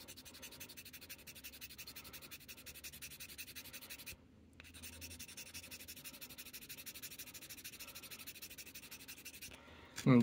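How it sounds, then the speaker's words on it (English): Chalk is scraped into a tray for weathering gravel tracks on a farm toy display, a steady close scratchy rubbing that runs almost throughout, with a short pause near the middle and a louder knock at the end. "I definitely need more chalk. Again, just scraping that into my tray."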